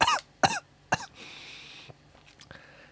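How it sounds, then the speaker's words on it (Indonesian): Two or three sharp coughs close by, from a person coughing in cold weather, followed by a breathy rasp and a few small throat sounds. "Gua batuk bukan karena nikotinnya, karena dingin guys."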